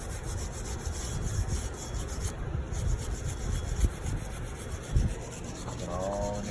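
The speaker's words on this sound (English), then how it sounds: "Here's Justin cleaning his flywheel all up." Cleaning and rubbing the clutch flywheel surface of an MCI MC7 bus during a clutch job: steady close scrubbing and scraping friction with a couple of sharper knocks, continuous throughout, no talking.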